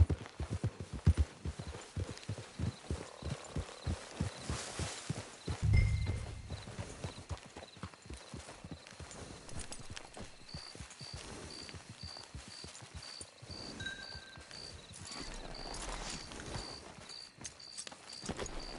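Steady, rhythmic clip-clop of horse hooves at a walking pace in the video game Red Dead Redemption 2, close by, with a brief snort partway through and faint ambient tones behind.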